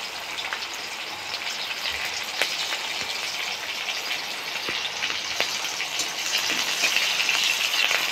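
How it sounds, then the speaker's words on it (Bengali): Garlic, black cumin, dried red chilli and slit green chillies sizzle and crackle steadily in hot oil as a tempering, with a few sharp spatula scrapes and knocks from stirring, close and continuous throughout. "ফোড়নটাকে একটু নাড়িয়ে নিচ্ছি।"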